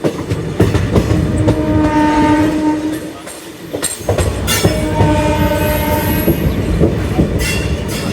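A passenger train rolls past at Bardhaman station in India, with loud continuous wheel rumble and clickety-clack, a brief dip midway, then the heavy passing resumes close by, with no talk over it.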